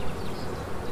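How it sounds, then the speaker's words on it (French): Dense swarm of honeybees at an open beehive during a hive inspection, a steady close hum filling the short moment without any talk. "Il y a un nombre très important d'abeilles."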